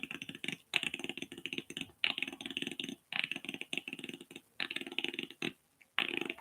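A human voice imitates the Predator creature's rapid clicking rattle from the movie, in loud, close bursts of dense clicks separated by short breaths.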